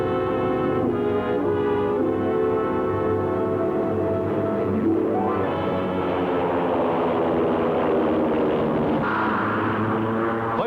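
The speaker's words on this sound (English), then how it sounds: "Fighter planes escort the bombers as the squadron flies high over Asia." World War II fighter planes escorting bombers as a squadron flies high over Asia in 1943, a loud, steady, dense engine drone that fills the whole clip without a break.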